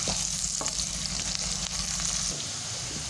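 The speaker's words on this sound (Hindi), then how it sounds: "जब तक इसका कलर हल्का ब्राउन नहीं आ जाता मैं इसमें फ्राई करूँगा ऑयल के अंदर।" Onions fry in oil for a potato and capsicum dish, giving a close, steady sizzling hiss that stays constant throughout with faint stirring.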